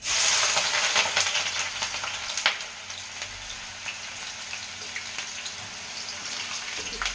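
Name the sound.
chopped onions frying in hot oil in a pan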